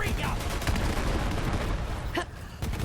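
Rapid bursts of gunfire and grenade explosions from the shooter game Borderlands 3, loud and dense throughout with a sharp blast near the end.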